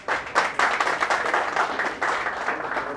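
An audience applauds to welcome a senator, a steady wash of many hands clapping at moderate loudness and slightly distant, sustained for the full few seconds with no talk.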